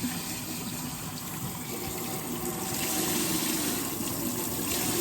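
Steady running water from a tap, a continuous broadband rush that swells slightly louder toward the end, with no voices.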